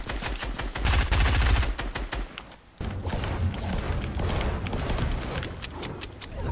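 Gunfire in the Fortnite video game: rapid automatic bursts, loud and close, with a brief pause before more shots and game noise continue.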